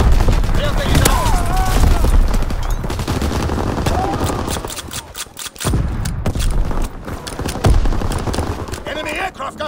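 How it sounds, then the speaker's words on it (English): An enemy aircraft gunner fires in Call of Duty WW2, loud rapid bursts and scattered shots crackling across the scene with short pauses, while in-game voices talk underneath. "Enemy aircraft gunner firing at targets."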